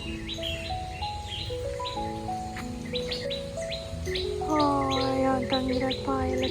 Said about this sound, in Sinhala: පැණි කුරුල්ලෝ තව චූටි වර්ග කීපයක් ඉන්නවා.